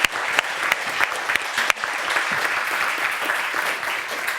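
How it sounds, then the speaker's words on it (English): An audience at a scientific colloquium applauds its panelists: steady, moderately loud clapping from a seated crowd, with a few sharper individual claps standing out early on, continuing evenly to the end. "I would like a round of applause for our panelists"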